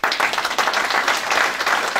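An audience at an association general assembly gives a dense burst of applause for a children's and youth folk dance group, loud, close and sustained throughout.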